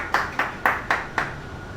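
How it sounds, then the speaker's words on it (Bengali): Hands clap at a cake-cutting celebration, five crisp, evenly spaced claps in a steady rhythm, fairly close and alone without talk. "সবাই হাততালি দাও।"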